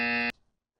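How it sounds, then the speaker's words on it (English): A game buzzer from water polo scoring software gives one loud, steady electronic blast of about a third of a second, then cuts off into silence. "That's the buzzer."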